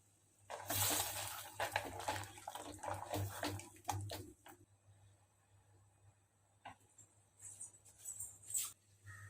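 Water is poured into a pot of crab curry with ground coconut, a splashing, gurgling stream lasting several seconds, followed by quieter scattered clinks and drips from the pot.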